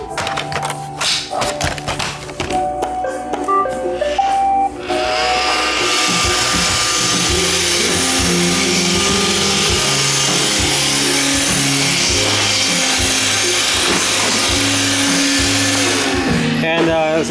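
An iRobot Roomba 530 robot vacuum starts up with a few beeps, then runs with a steady, loud whirring hum and brushing noise that holds until it cuts off near the end.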